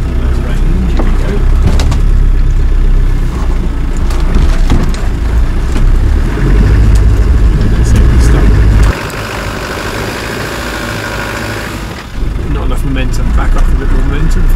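A Camel Trophy Land Rover crawls off-road over wheel-lifting humps in first gear low range, a loud rumbling engine mixed with crunching and knocking from the terrain, with someone talking over it.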